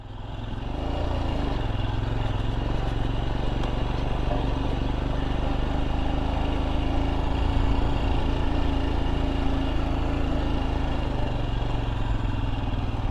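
A Royal Enfield Himalayan Scram 411 motorcycle engine starts and then idles. The steady, even thrum is close and fairly loud and runs on for several seconds with no talking.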